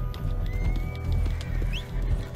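A mule whinnies in Red Dead Redemption Online, one high sliding call over soft hoof clops and low rumble, close and moderately loud with no voices.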